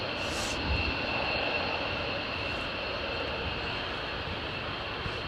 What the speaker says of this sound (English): That's usually the First Lady's aircraft